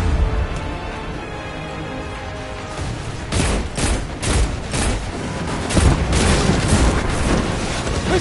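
Missile explosions and gunfire rattle through a Destiny 2 story mission, with a quieter stretch giving way to a loud flurry of booming blasts and rapid shots close by.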